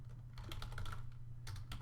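Quiet computer keyboard typing, a quick run of soft key taps, a brief pause, then a few more, over a low background hum.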